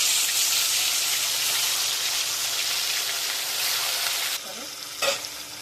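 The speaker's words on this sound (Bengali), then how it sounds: "তেলের মধ্যে মাছ ছেড়ে দিচ্ছি।" Pomfret fish frying in hot oil, a dense close sizzle that holds steady and then drops sharply before a brief clatter of handling near the end; nobody speaks.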